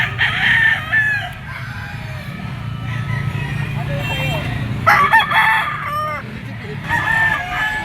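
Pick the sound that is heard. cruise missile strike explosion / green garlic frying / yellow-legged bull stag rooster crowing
yellow-legged bull stag rooster crowing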